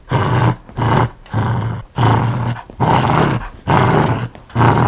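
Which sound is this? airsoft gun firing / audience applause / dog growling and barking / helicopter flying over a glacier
dog growling and barking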